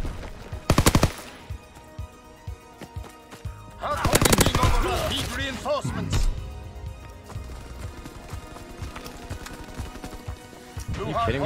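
Machine gun fire in the Call of Duty WW2 video game, with sharp bursts of rapid shots near the start and middle, followed by scattered gunfire and footsteps while players talk over the action.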